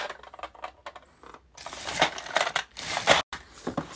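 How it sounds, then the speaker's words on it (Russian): Rummaging through a chest of childhood keepsakes in a room at home: close rustling and rattling of small objects with clattering bursts and short pauses. "В своей домашней комнате разбираю сундук со своими сокровищами."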